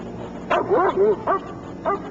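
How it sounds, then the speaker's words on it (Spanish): A dog barks at a vehicle in a parking lot, several sharp yipping barks with whimpering tones, close and clear over a quiet background. "Claramente el perro ladraba hacia el vehículo, pero McClung"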